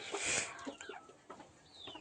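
Close chickens cluck and squawk in short, uneven bursts, with one shrill call at the start and softer clucks following.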